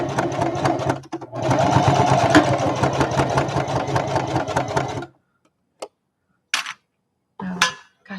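A sewing machine stitches a zippered bag with a forward and back stitch at a longer stitch length, running loud and steady for about five seconds before stopping, followed by a few faint clicks and handling sounds.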